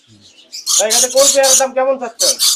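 Caged birds at the Mirpur bird market give loud, close, harsh chirps and squawks in quick bursts, separated by brief pauses.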